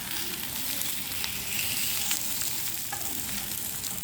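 Potato and chana dal kebabs shallow-frying in a pan, a steady close sizzle and crackle with light clinks of a utensil, no talking.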